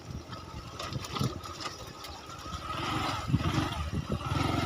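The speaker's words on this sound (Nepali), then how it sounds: "मेरो बाइक चाहिँ डिस्कभर हो एसटी हैन," Engine of a Bajaj Discover motorbike on a rough mountain road in Sindhupalchok, a steady close droning rumble that holds throughout and swells slightly toward the end, with no talk.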